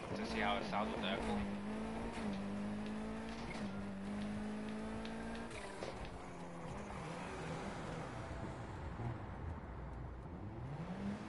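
A racing car's engine in Need for Speed Heat, droning and rising in pitch as it revs and shifts, with whining gear changes and passing car sounds, heard under people talking.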